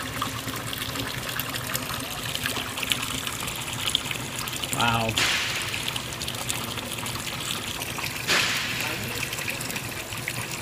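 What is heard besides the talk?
water draining from car engine oil into a bucket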